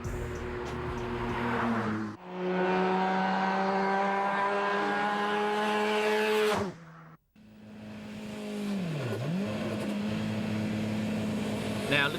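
A turbocharged Nissan Silvia runs loud, its engine rising in long revving sweeps, then cuts off abruptly before starting up again and swooping down and back up in pitch.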